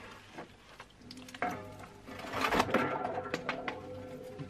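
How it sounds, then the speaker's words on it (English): Metal banding ribbon on a Harbor Freight mini lathe crate is snipped with a few close clicks, then rattles and scrapes loudly as it springs loose. "cut this metal ribbon off"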